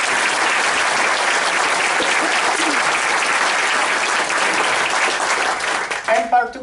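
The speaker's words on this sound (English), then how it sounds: "How about one more round of applause for our incredible speakers?" A breakfast audience claps for speakers at a spring grant event, giving a steady, dense round of applause that holds loud and near throughout, then fades into a few scattered claps as a voice begins at the end.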